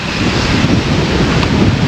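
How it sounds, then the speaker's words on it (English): Strong wind gusting steadily across open ground around a mid-spring garden of daffodils and lilies, a loud continuous roar buffeting the microphone with no voices. "just wanted to share the wind with you in case you weren't getting any"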